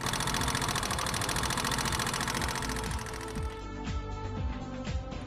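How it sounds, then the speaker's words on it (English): Idling engine with tappet noise, a sharp metallic ticking from the upper side of the engine, caused by excessive tappet clearance. Fast, steady ticking runs over the continuous engine drone, close and fairly loud throughout, with no talk. "A sharp metallic noise is heard in the idling stage from the upper side of the engine"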